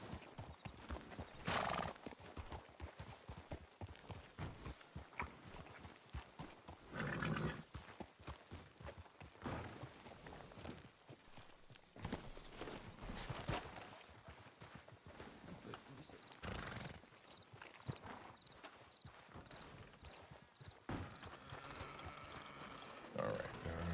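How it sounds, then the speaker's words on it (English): Rio, a horse, clops along on hooves in an uneven rhythm, with a few whinnies and bursts of movement; the sound is close and moderately loud, with occasional brief human talk in the background. "Pretty horse, yeah."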